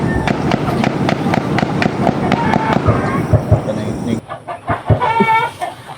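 Rapid bursts of loud popping shots crackle in a dense volley, then thin out to a few scattered reports while voices and a crowing rooster carry on.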